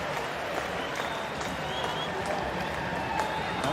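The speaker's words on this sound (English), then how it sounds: "here's the loudest cheer of the day, apart from Cummings' goal, for the arrival" A football stadium crowd cheers and applauds the arrival of Garang Kuol, a steady roar of distant clapping and voices that fills the space, with a commentator talking over it.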